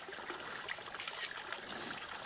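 Water trickles steadily from an automatic chicken waterer, a soft continuous dribble heard up close and fairly quiet, with no voices.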